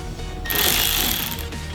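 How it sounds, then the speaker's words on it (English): An electric ratchet spinning out the spoiler bolts on a Subaru BRZ, a loud, close, continuous buzzing whir that swells in the middle of the burst. "By automatic, I meant electric ratchet."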